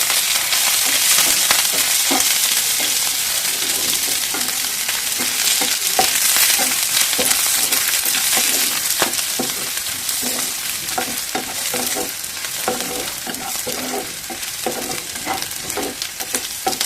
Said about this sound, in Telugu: క్యారెట్ ఇలా అయితే వేసేసుకోండి. బాగా వేయించుకుందాం.